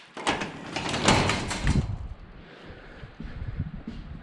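A newly installed residential garage door is pushed up the last stretch to fully open, giving a loud rattling, rolling rush for about two seconds before stopping, followed by faint quiet handling noises.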